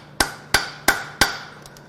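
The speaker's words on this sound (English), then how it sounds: "I need more hammer force here." Four loud, ringing hammer blows strike metal parts of a failed 3.5L EcoBoost engine from a 2019 Ford F-150 at a steady pace, followed by two faint lighter taps.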